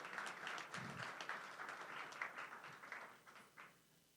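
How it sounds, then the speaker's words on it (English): Quick round of applause for a venue host at a blockchain meetup livestream, a steady mid-level clatter of hands lasting a few seconds before fading out at the end. "Please, a quick round of applause for ATV for the venue space."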